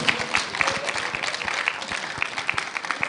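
An audience at a Ghana College of Pharmacists event bursts into sustained applause, dense overlapping hand claps filling a hall steadily for several seconds, with a few sharper claps standing out.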